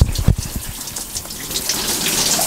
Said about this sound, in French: on prend une petite douche